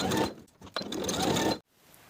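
A sewing machine stitches quickly as it bastes the elastic edges of a dress panel, two close, steady bursts of running motor and needle separated by a short pause, then it stops.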